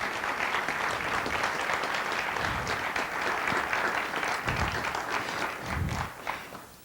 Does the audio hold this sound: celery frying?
no